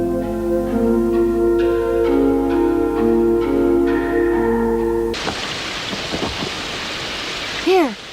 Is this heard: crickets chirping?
no